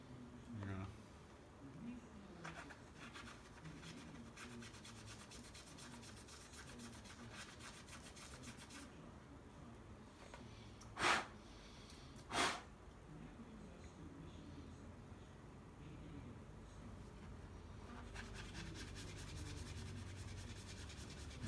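A magic eraser rubbing paint stains off an anime figure, giving soft continuous scrubbing and scuffing, with two sharper brief scrapes near the middle; speech is heard faintly at times.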